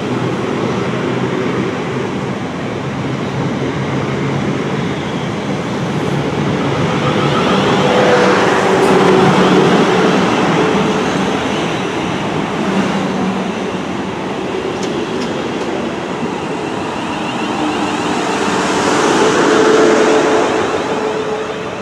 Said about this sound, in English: The inbound class 450 from Lymington Pier